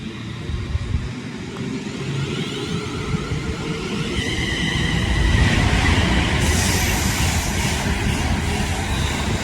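A London Northwestern passenger train of two coupled units on the Crewe to London Euston service passes on the Trent Valley Line, a rushing rumble that swells as it nears, with high wheel and rail hiss toward the end.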